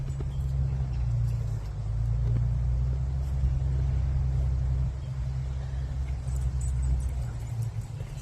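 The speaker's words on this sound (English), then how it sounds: "They heard that truck." A deep, steady vehicle rumble close by, like a truck engine pulling in and idling, with faint jingling and rattling on top.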